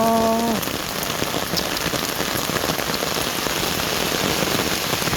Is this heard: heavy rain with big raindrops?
yes